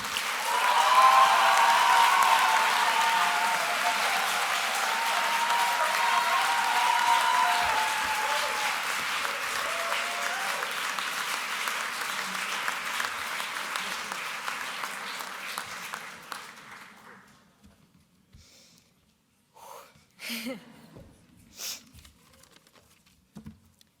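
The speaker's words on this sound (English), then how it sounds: "let's all give a round of applause to Isabella Azzaro" Sustained applause from a graduation crowd for a medical and surgery graduate, loud and steady before thinning out near the end, leaving a few scattered claps.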